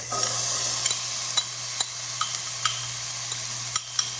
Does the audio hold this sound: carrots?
yes